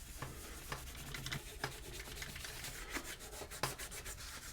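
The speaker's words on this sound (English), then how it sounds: "Just clean off the residue with a bit of Goo Gone." Rubbing and scrubbing at adhesive residue on a Realistic CD-2300 CD player with Goo Gone, quiet close-up friction strokes in an irregular rhythm.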